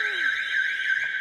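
A futsal end-of-half alarm blares as a loud, steady electronic tone, sustained without a break and heard alone.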